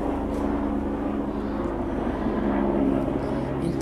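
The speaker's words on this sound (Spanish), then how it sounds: "el helicóptero tiene que pasar ahora" A helicopter passing over the Palacio de las Dueñas in Seville, a continuous loud rotor and engine drone holding steady throughout, with no speech.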